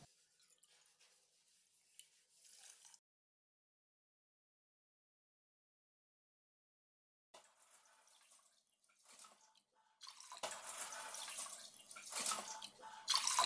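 Water is poured into a pressure cooker holding washed foxtail millet for pongal. After near silence with faint clinks, a soft splashing pour grows louder toward the end.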